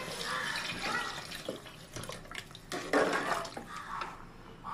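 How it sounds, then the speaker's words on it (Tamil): Water poured into a cooker of chicken salna masala, a splashing, gurgling stream with dripping over a busy kitchen background, running continuously for several seconds at close range. "தேவையான அளவு தண்ணி ஊற்றிக்கலாம்."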